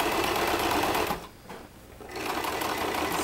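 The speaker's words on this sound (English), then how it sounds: "I top stitched that little opening." A sewing machine top stitches a zippered tote bag, a steady close whirring hum that drops out briefly in the middle and then resumes, with no talk.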